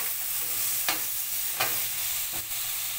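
Ginger frying in a pan is stirred in three distinct scraping strokes, each sharp and close, over a soft, steady sizzle.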